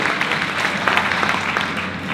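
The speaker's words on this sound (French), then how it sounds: "On peut applaudir, bien sûr qu'on peut applaudir." A dense, continuous round of clapping from an audience at a 2024 New Year's wishes ceremony with local mayors, loud and even for its whole length with no talk over it.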